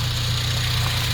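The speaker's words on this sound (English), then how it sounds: "Nice quiet engine." A 2007 Honda Civic Si engine idling quietly, a smooth, steady low hum with an even, continuous tone and no revving, recorded close to the car.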